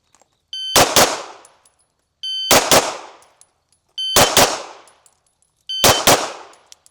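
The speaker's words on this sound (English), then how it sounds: "I'm shooting about as fast as I could pull the trigger." Rifle fired four times in quick bursts, each burst a pair of sharp, loud, close cracks with a ringing metallic tail, spaced about every second and a half, with no voices.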